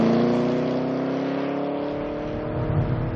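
A Ford Shelby GT500 or Chevrolet Camaro ZL1 sports car accelerating out of a corner, a loud, close engine rising in pitch with a smooth sweeping drone, no talk.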